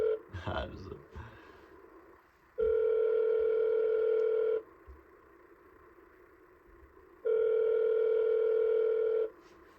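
An outgoing phone call plays a ringback tone, with two long, steady, loud electronic rings separated by a quiet gap. There is no talking over them.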